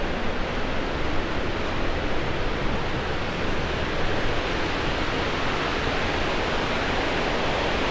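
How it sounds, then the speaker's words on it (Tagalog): Powerful rushing water roars loudly and continuously at a river spot called Lagusan, a dense, unbroken wash of noise filling the whole clip. "Lakas, malakas masyado yung tubig"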